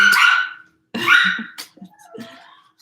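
A pet dog barks in a few sharp, loud bursts close by, with short gaps between them and a quieter whimpering yip at the end, indoors in a home.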